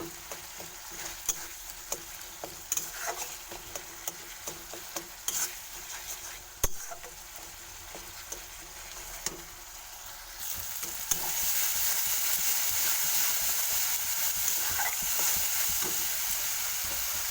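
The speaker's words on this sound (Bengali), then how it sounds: "দেখুন তেল ছেড়ে দিচ্ছে তার মানে আমার মশলাটা কষা হয়ে গেছে" Spice paste with tomatoes frying in oil for a rohu fish curry, stirred with repeated close scraping taps over a steady sizzle that grows louder and brighter toward the end.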